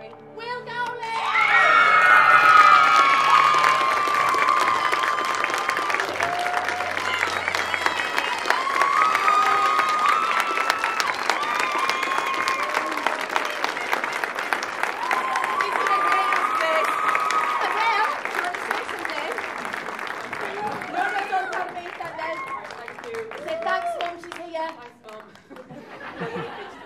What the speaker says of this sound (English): give a massive round of applause for our favourite cardigan wearing, Will Dowling